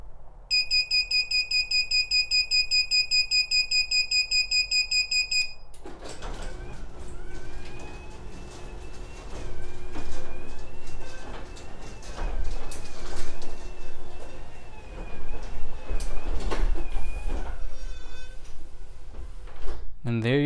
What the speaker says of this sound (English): now with my phone, I'm going to go ahead and close the garage door